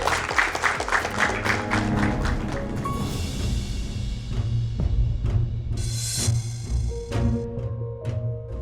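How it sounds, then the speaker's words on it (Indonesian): Audience applause at a televised pageant-style finalist segment, a sustained dense wash of clapping that holds steady throughout with no talk over it. "Beri tepuk tangan yang meriah."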